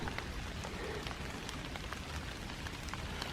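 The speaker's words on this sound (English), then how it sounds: "It's raining here at Jefferson Memorial Forest" Steady patter of light rain falling continuously in a forest in December, soft and even with scattered drops hitting nearby surfaces, no voices.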